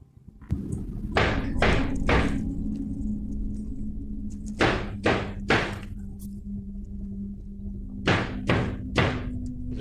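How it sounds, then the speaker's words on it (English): Knocking on a cupboard indoors comes in three bursts of three quick knocks each, moderately loud and close, over a steady low room hum. "Is someone just knocking on the door?"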